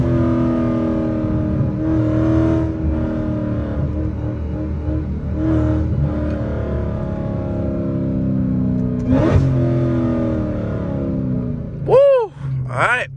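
A 900 hp Dodge Charger Hellcat engine drones loudly at speed on a highway, with rising and falling pitch through downshift revs and a sharp swoop near the end; someone talks over it at times.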